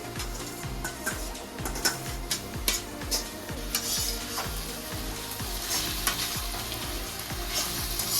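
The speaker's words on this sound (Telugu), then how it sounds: "మంచిగా నూనెలా వేయించుకుంటే మన కౌసుక వాసన పోయేటట్టు బాగా వేయించుకోవాలి." Boiled goat tripe (boti) frying in oil with ginger-garlic paste, a loud steady close sizzle broken by rhythmic clinks and scrapes of a ladle stirring against the pan.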